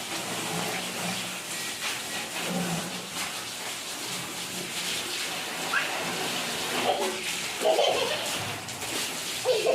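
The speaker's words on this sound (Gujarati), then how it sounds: "ટ્રેક્ટર ને ખાલી પાણીથી સ્પ્રે મારીએ છે" Steady hiss of water spraying onto a tractor to wash it, continuous and fairly close, with a few clattering knocks and splashes near the end.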